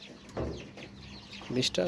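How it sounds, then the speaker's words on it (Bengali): Fayoumi hens and roosters in a rooftop coop, about twenty birds, give several short clucks close by. The clucks come in brief bursts over a quiet background. "এখানে হচ্ছে 18টা মুরগি, 2টা মোরগ, মোট হচ্ছে 20টা।"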